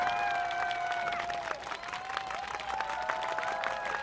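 Crowd applause at an outdoor political campaign rally in South Korea attended by bereaved Itaewon disaster families, a steady wash of clapping with scattered cheers and whistles running throughout, dense and continuous from start to finish.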